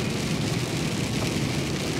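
Steady rain drumming on a car while driving at about 100 km/h on a near-empty road, a dense continuous hiss with low road rumble, loud and unbroken throughout.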